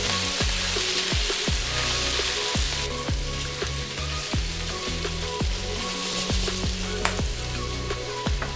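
Shrimp stir-frying in a wok with garlic and onions for Indonesian capcay, a dense rain-like sizzle under regular scraping stirs, close and steady with no talk.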